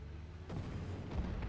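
A War Thunder tank cannon fires once, a heavy boom that rolls into a low rumble, followed by a second softer thud, with no talking.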